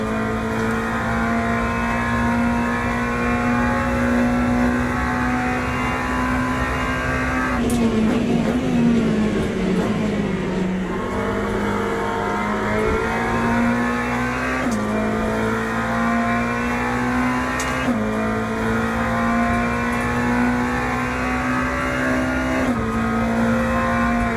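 Race car engines in Le Mans Ultimate droning steadily while rolling to the start, a sustained loud hum with pitch shifting as gears change and the field crawls forward, several cars audible together.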